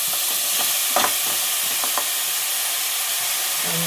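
Chunky tomato pieces for chutney fry in a pan with a loud, continuous hissing sizzle, broken by a few brief scraping stirs near the start.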